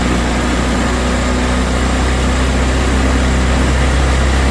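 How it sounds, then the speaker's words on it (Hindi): A Honda Activa scooter engine runs at raised RPM during a mileage adjustment, a loud, close, unbroken drone with no speech. "तो अब इसके आरपीएम यहाँ पर बहुत ज़्यादा हो गए"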